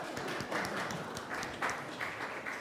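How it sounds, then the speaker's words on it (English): Congregation at an Easter Sunday church service claps for a child, a fairly faint, brief round of applause with some voices. "Give him a round of applause."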